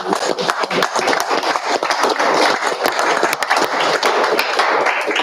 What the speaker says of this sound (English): I think that deserves certainly a round of applause.